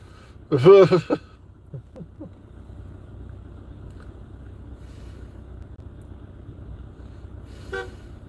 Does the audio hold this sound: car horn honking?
yes